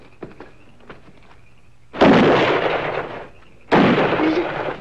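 Two loud broadband blasts of gunfire in a comedy sketch, a hunting scene with a bear, each burst sharp in onset and then sustained for about a second with a rough tail, the first following some faint clicks and quiet background.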